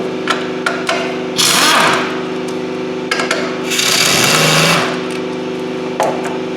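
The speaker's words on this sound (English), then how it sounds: "We will take them bolts loose right there." Bolts are worked loose on a Nissan Altima 2.5 engine, giving close metallic clicks and ratcheting taps with two longer bursts of loud grinding mechanical noise over a steady background hum.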